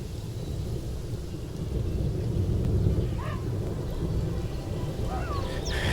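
Steady rain falls with a deep rolling rumble of thunder underneath, continuous and fairly loud, with a few faint higher chirps near the end.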